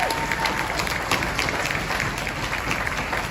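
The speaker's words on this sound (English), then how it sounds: "how about a round of applause for those who have demonstrated respect?" A crowd at a convoy rally in Winnipeg applauds steadily throughout, many hands clapping in a dense, even patter at moderate distance.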